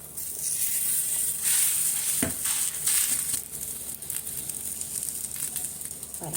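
A rice flour roti laid on a lightly oiled tawa gives a soft, bright sizzle that swells and fades over a few seconds, with one brief knock partway through and no talk.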